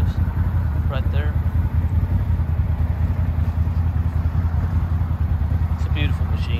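A Massimo Ravager 1000cc 85 HP UTV engine runs steadily with a dense low rumble throughout, fairly loud and close, with a few faint higher sounds over it.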